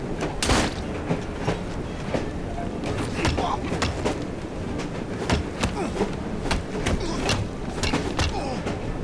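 Victorian steam-era train in the video game Assassin's Creed Syndicate, a steady loud rumble with repeated rhythmic clacks and thumps over the rails, running continuously with a voice speaking over it.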